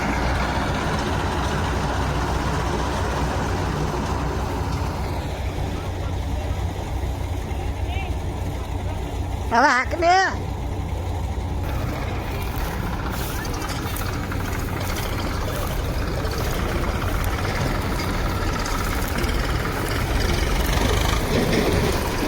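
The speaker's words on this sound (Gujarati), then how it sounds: "બીજું ટ્રેક્ટર છે" A tractor engine runs steadily on a farm during the wheat harvest, its low, continuous drone sitting beneath people talking nearby throughout.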